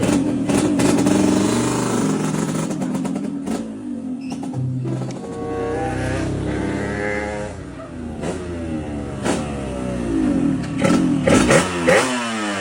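A motorcycle engine revs and runs steadily throughout, with rising and falling pitch as it accelerates, fairly close and loud.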